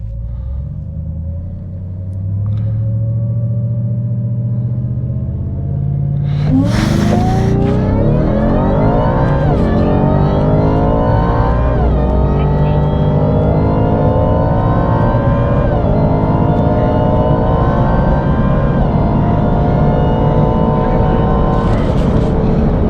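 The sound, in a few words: Ford Raptor R with 3.8L Whipple supercharger launching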